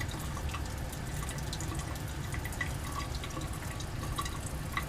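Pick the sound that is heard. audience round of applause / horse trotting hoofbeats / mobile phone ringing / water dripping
water dripping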